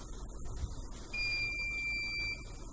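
A CP PLUS DVR buzzer sounds a steady electronic tone, a close, continuous high beep holding for over a second over low background hum.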